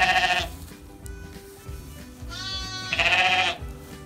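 Sheep bleating on a farm during lambing season, with Welsh Mountain ewes and lambs around. Two loud, close bleats sound at the start and near the end, with a fainter call between them over low rumbling background noise.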